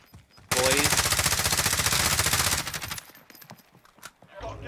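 Rapid automatic gunfire in the Warzone battle royale game, a long, loud continuous burst of evenly spaced shots that stops abruptly, followed by scattered fainter game sounds.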